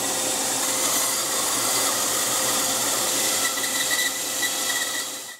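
A saw cuts out a custom Telecaster guitar body from a wooden blank in a workshop, a steady, loud, dense whining drone with a vacuum running, continuous with no pauses.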